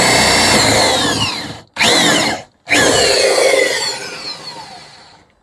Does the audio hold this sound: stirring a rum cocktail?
no